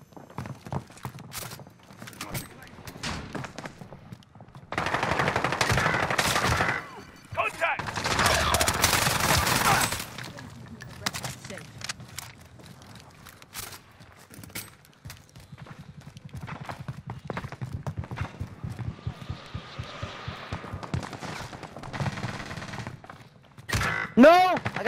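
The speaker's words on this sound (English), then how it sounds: "No! I got shot from Nova." Bursts of automatic gunfire and single shots in the online battle royale game Warzone crackle through the match, some loud and close, others distant, over scattered footsteps and game noise while players talk excitedly.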